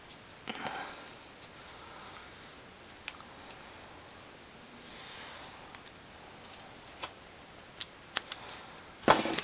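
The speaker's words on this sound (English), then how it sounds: "Actually, yeah, I'll just cut it." Scissors snip out paper pieces for a small action figure, with sparse faint cuts and light rustles over quiet room tone and a louder burst of crisp snipping and handling at the end.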